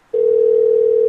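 A telephone in the Light Switch video game gives a single steady electronic dial tone, a clean continuous pitch that starts abruptly and holds loud and unchanged with no voices.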